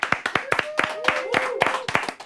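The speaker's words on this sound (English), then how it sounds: "There, clapping for himself." A single person's hands clap in a quick, uneven burst of sharp claps over about two seconds, close and moderately loud, with a voice talking over them.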